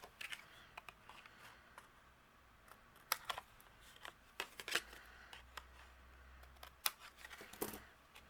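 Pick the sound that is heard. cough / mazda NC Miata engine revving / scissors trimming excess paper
scissors trimming excess paper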